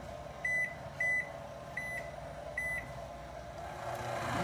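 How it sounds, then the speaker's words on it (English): A kitchen timer on a counter gives four short, bright electronic beeps at uneven spacing while it is set, over a low steady background hum. "now we're going to set our timer for 8 minutes."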